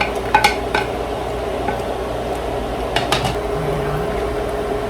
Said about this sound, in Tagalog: Ilagay ko na yung ating celery para yung ating celery lumambot na rin.